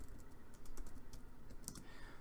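Rapid keystrokes on a computer keyboard, a steady stream of close, light clicks with a few sharper taps, heard alone with no talking.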